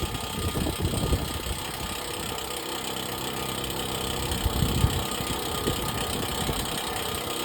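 Water truck engine steadily running its PTO-driven sprayer pump while building pressure during a malfunction check, a continuous mid-level mechanical drone with broadband hiss and slight surges, no talking.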